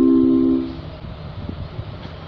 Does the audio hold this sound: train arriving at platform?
yes